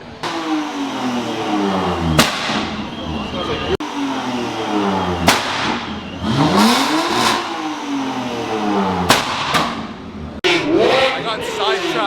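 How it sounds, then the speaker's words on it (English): A car at a Bay Area car meet revs its engine loudly in repeated rising and falling bursts, close by and dominating the scene, with people talking faintly underneath. "I hope this thing doesn't rev again."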